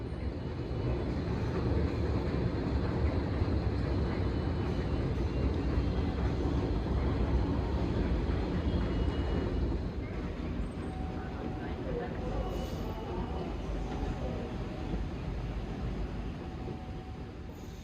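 Rumbling of a 7 train inside the deep underground New York City subway system, a loud, continuous broadband roar and rattle that eases slightly partway through and carries on steadily to the end.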